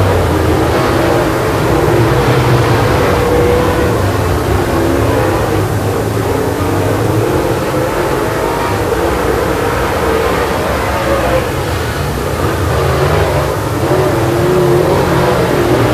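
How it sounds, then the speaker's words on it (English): Late model race cars racing on a track, a dense continuous roar of engines at full throttle, loud and steady throughout with slight rises and falls as cars pass. "Well, the 71 of Trace Wesley races his way around Jim Moon for position."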